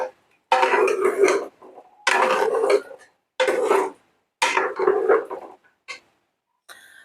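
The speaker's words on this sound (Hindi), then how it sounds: "फिर दोबारा मिर्चों को, मसाले को मिक्स कर लें थोड़ा सा।" A spoon scrapes and stirs chillies and spices in a pot of achar gosht, four clear bursts of metallic scraping with short pauses between them, close and fairly loud.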